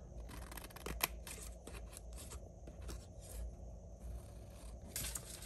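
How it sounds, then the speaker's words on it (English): Scissors snip close by, trimming paper around a craft tag, with several separate crisp cuts and light paper rustling at a quiet level and no talking. "Then let's put our paper right on that, and then we'll just trim this off."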